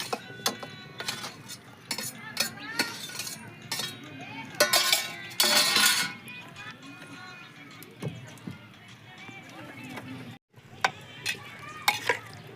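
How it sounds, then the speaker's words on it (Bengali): Chicken is mixed with water, whole garlic cloves, potato and tomato in a bowl, with repeated clinks and scrapes of a utensil, wet stirring and sloshing, and a few louder clattering bursts. "ভালো করে মিক্স করে নেব এর ভিতরে আমি গোটা রসুন কয়টা দিয়ে দিচ্ছি আর আলু আর টমাটোটাও দিয়ে দিচ্ছি"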